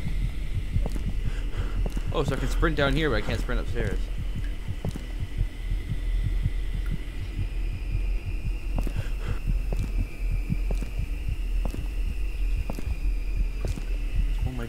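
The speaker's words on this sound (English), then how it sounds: "Heartbeats and screaming." A throbbing heartbeat pulses steadily in the horror video game Ildefonse, low repeated thumps over a droning hum, while someone talks over it and a high wavering cry rises briefly.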